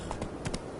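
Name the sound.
horse Roach's hooves, from a video game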